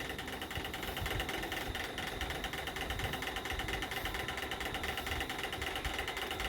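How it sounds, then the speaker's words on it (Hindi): A sewing machine stitches folded blouse fabric along a seam, a fast steady mechanical whirring and rattling that runs close and continuous throughout. "पीछे की तरफ मैं फोल्ड करते हुए सिलाई कर रही हूँ।"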